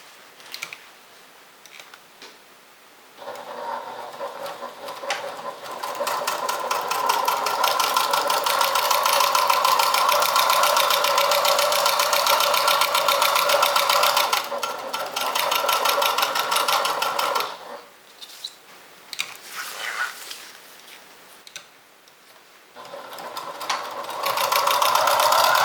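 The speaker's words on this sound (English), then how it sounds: "we're going to top stitch at the top and we're going to top stitch at the bottom" Close, steady whir of a sewing machine topstitching a fabric makeup and toiletry bag, one long continuous run followed by a few shorter bursts with pauses between.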